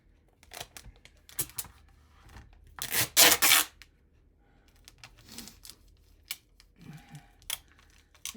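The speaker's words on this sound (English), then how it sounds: "for the noise of the tape" Adhesive tape rips off a gel printing plate in a few sharp tearing strips, one long loud pull in the middle, amid scattered clicks and small handling taps close by.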